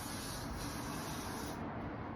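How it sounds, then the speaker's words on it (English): Got To Be Glued hairspray is sprayed over a curly drag-queen style wig in one continuous, even hiss that stops near the end, close and fairly quiet, with no talk. "I'm gonna take some Got To Be Glued hairspray and just spray it to keep it in place"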